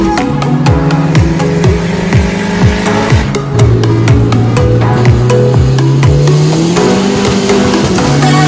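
A Ford Probe GT fitted with an HX35 turbo idles while warming up, a loud, steady engine drone with rising and falling revs and sharp popping clicks throughout, with no one speaking.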